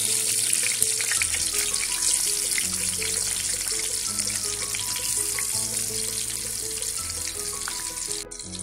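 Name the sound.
brinjal frying in oil in a pan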